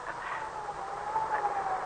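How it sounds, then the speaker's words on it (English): An ambulance siren wails on a road, a steady, fairly loud, slowly wavering tone over low road rumble. "It's an ambulance, not a speed cop."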